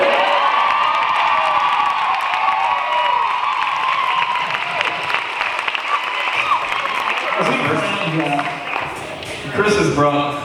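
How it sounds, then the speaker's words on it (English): Loud audience applause and cheering with whoops at a live comedy storytime show, sustained for about eight seconds and then thinning out as a voice begins talking near the end. "can we please have a round of applause for Chris's zipper"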